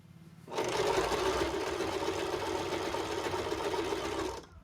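A sewing machine stitching a pant hem, starting abruptly and running at a steady, fast whirring hum for about four seconds before stopping, close and clear with no talking.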